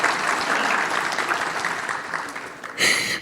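Audience applause at a ceremony honouring high-achieving HSC students and university graduates, a steady wash of clapping that fades slightly before a brighter, louder burst near the end.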